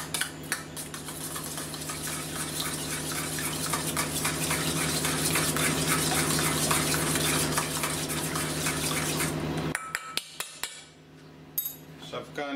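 Spoon stirring garlic, soy sauce and chili sauce together in a bowl, a steady rhythmic scraping and clinking for about nine seconds, close and clear, then a few scattered taps as it stops.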